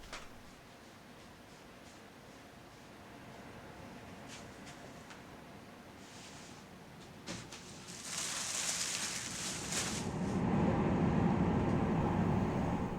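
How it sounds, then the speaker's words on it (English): A train rumbles in the distance near Tampere, Finland, growing louder and heavier toward the end as it draws nearer, with a low rolling roar and no voices. "I've always loved the sound of the train"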